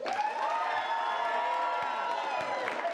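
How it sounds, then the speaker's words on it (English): A live improv comedy audience claps, cheers and whoops throughout, a dense and steady wall of crowd noise close by with no pauses. "And for Nate's movie, applaud now"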